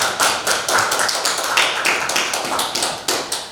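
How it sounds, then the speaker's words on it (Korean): An audience at a history lecture claps to welcome a speaker, a dense run of sharp, evenly spaced claps that stays loud and steady for several seconds with no voices over it. "큰 박수로 맞아주십시오."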